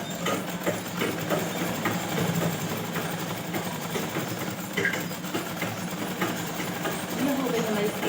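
A sewing machine stitching blouse fabric, a steady mechanical whirring hum running throughout, with faint talk mixed in.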